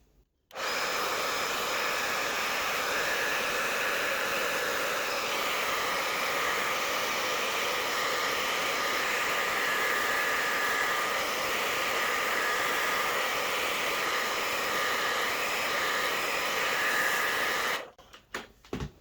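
A heat gun warming knee pads blows with a constant loud whooshing hum from start to finish, cutting off abruptly near the end with no talking.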